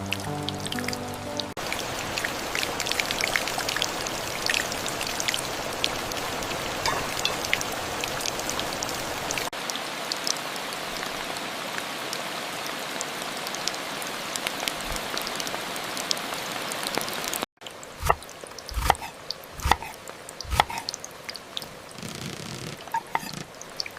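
Steady monsoon rain falls at night in a village outdoor cooking spot, a dense continuous patter of drops with occasional closer drips, later joined by sharper nearby taps and knocks.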